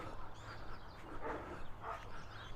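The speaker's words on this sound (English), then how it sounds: "There's a doggy, beware of dog." A dog barks a few times somewhere along a street during a morning walk in Innisfail, Australia, the short yaps fairly distant and heard over steady outdoor background noise.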